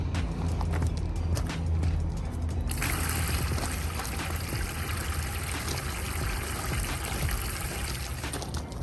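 Water pours steadily from a tap into a bucket for a two-bucket car wash, a continuous close rushing and splashing that grows brighter and hissier partway through.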